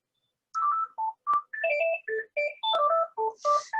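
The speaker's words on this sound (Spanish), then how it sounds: "está sonando un teléfono y no lo puedo parar" A telephone rings during a talk, playing a loud, close melodic ringtone of short bright tones in a quick, bouncing pattern, with no voices over it.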